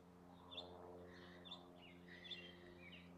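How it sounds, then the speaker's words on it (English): Birds chirp softly among trees during a quiet meditation, a few faint, scattered tweets over a low steady background hum. "to settle into the feelings of the birds chirping"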